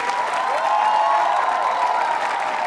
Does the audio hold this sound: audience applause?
yes